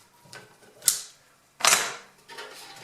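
Clamps come off a 30-inch metal brake in two sharp metallic clacks, a lighter click before the first and a softer rattle after the second, with no one talking.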